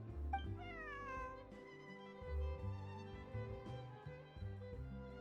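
A cat meows clearly in a Genshin Impact game scene, with a few drawn-out cries over steady background music.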